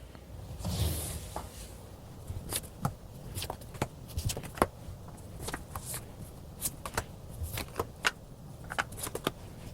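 Tarot cards shuffled and drawn in a quiet room, a run of soft riffling swishes and sharp card snaps and flicks scattered irregularly across the whole stretch, close and moderately loud with no talking.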